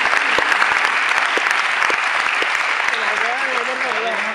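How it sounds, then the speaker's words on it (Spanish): A packed auditorium audience claps steadily and loudly throughout, with a voice rising over the applause near the end. "un auditorio completamente lobotomizado que aplaude la ocurrencia de un científico"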